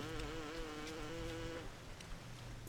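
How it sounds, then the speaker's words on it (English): A flying creature in Bioshock Remastered gives off a bee-like buzz: a steady, wavering drone that holds for about a second and a half, then stops, leaving a quiet game background. "I don't like how it sounds like a bee when it's flying around"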